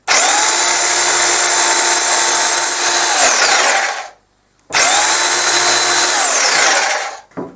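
A KRAFT&DELE KD1736 electric demolition hammer runs loud and close in two long bursts, a dense continuous roaring whine with a brief stop between them, with no voices.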